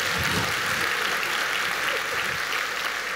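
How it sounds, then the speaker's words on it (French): An audience at a stand-up comedy show in Mauritius applauding, continuous dense clapping from a sizeable crowd, steady and fairly loud throughout with no voices over it. "on peut applaudir ça"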